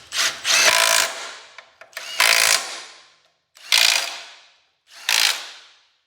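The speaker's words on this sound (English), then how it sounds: "Let's see if we can just use the impact to put the bolts in." An impact wrench drives bolts into a Cub Cadet 2181 Super Cub transmission in four loud, close rattling bursts separated by short pauses.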